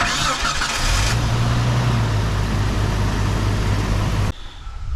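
A 1998 Jeep Wrangler engine, just fitted with a new radiator, cranks loudly for about a second and then catches and runs at a steady, close idle for several seconds before cutting off abruptly.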